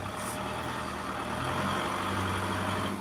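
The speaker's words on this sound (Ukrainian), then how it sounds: "Заводський тракторець, Ловол 504" A Lovol 504 factory mini tractor engine idles steadily, a low continuous diesel drone with a faint hum, close by and alone without talk.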